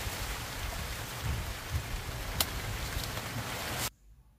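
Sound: sudden rain shower

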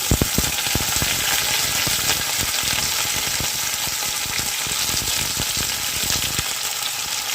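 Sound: potatoes and beans added to a hot tempering and frying

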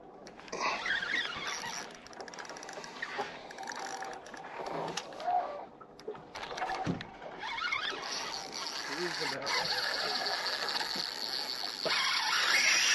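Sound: fishing reel drag screaming as big fish pulls line

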